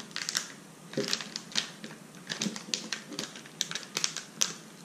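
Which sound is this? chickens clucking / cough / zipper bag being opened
zipper bag being opened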